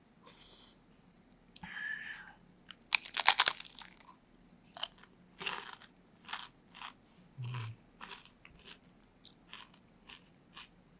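Crispy fried chicken skin dipped in truffle sauce with salted egg powder, bitten and crunched up close in a string of sharp, separate crackling bites with short pauses between them and a faint whisper early on.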